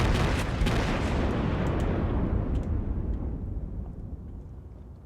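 Heavy naval gunfire in the World of Warships game, a loud booming salvo with a long rumbling tail that slowly fades over several seconds.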